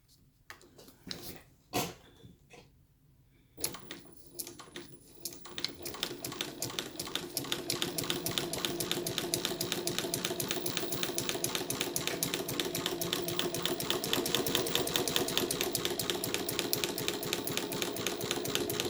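A chain stitch embroidery machine sewing a cotton thread outline: a few scattered clicks and knocks at first, then a steady rapid mechanical chatter that builds and holds, loud and close, for the rest of the time.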